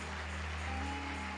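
A church congregation applauds steadily during a Spanish-language sermon, a continuous wash of clapping heard from a distance.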